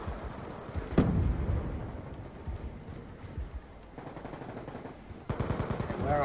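Gunfire in Black Ops 2 rattles in bursts, with a sharp shot near the start and a rapid volley toward the end over a low background.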